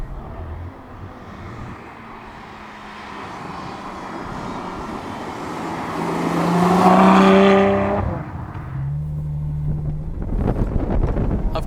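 A Ferrari F12 front-engine V12 cruising gently in automatic mode, a smooth low engine drone with wind rush that swells to a louder peak midway, then drops and resumes with a rougher, gruffer note.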